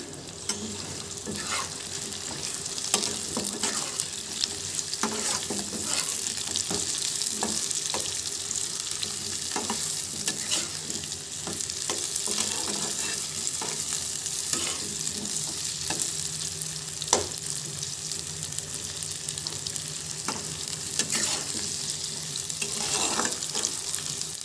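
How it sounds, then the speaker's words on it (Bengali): Bay leaves and whole garlic cloves fry in oil for a spicy chicken kasha, giving a continuous, close sizzle with scattered pops and stirring clatter throughout, no talking. "আর চারটে রসুন গোটা সেটাও আমরা এর সাথে ভেজে নেব।"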